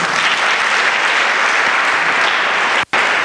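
Loud, sustained applause from a large crowd, dense and continuous, cutting off abruptly for a split second near the end.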